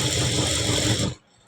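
A sewing machine stitches a blouse lining in a rapid, steady whir for about a second before stopping abruptly into near silence.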